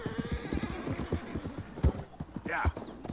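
A wild horse being broken in the video game Red Dead Redemption II thuds with repeated hoofbeats and lets out a short whinny near the end, while someone talks over it.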